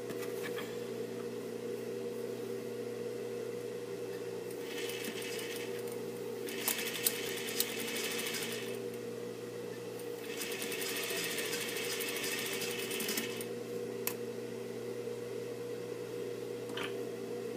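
A sewing machine stitches a denim jeans seam in several runs of rapid, whirring needle chatter, starting and stopping against a steady low motor hum with occasional light clicks.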